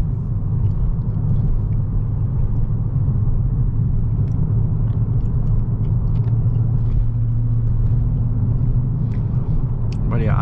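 A new Dodge Charger's engine idles with a deep, throaty rumble, steady and close, filling the low end throughout while someone talks over it.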